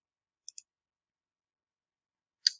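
A few sharp computer mouse clicks, two quick ones close together and then a single click a couple of seconds later, each isolated in silence.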